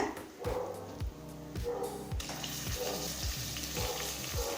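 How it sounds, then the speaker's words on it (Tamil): Chicken pieces go into hot frying masala for Ambur chicken biryani in a pressure cooker, setting off a loud, close sizzle that swells as the meat lands and then holds steady under several low, rhythmic knocks. "அடுத்தது சிக்கனை சேர்த்துக்கலாங்க"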